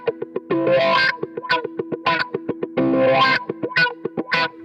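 An electric guitar plays through a Japanese-made Vox V847-C wah pedal, producing funky, choppy strums with quick percussive sweeps, short muted hits alternating with longer wah-swept chords, close and alone.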